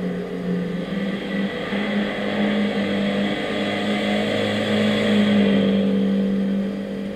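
A Mini Cooper Countryman 1.6 16V THP engine in the game Gran Turismo 6, rallying on a dirt road, drones steadily with a low hum and slight rising pitch, continuous and fairly loud, with no voices.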